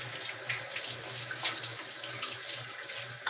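Tap water runs steadily into a sink as a razor is rinsed during a shave, a close, continuous hiss and splash with slight fluctuations.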